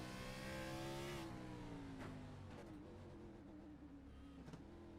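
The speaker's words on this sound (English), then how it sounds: "you hear like that kind of when he's downshifting, almost wanting a wheel hop" A race car engine in a racing video game at Sonoma winds down through a falling pitch as it downshifts, then settles into a lower drone with a couple of brief sharp blips, steady and moderately loud.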